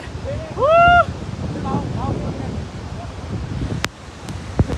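Water rushes steadily at the Ozard waterfall, a continuous broad roar close by, with a few brief voices calling out over it.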